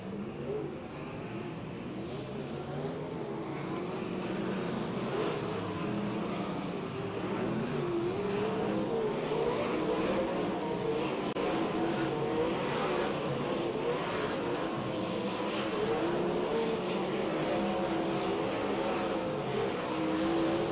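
A steady roar of race cars on practice laps at Placerville Speedway, a dirt track, fills the scene continuously, with engines droning and rising faintly in the distance under a constant wash of crowd ambience.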